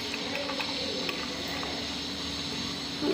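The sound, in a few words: beaten egg being poured into a pan for an omelette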